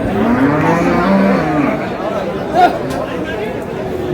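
A cow lowing with drawn-out moos amid the busy chatter of a crowd at a cattle market, people talking loudly nearby.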